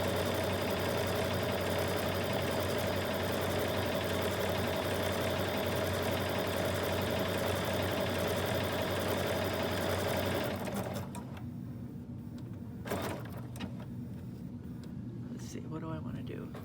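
A sewing machine runs steadily for about ten seconds, stitching a double blanket stitch around a heart outline on a Valentine's pillow, then slows to a few short bursts as it turns.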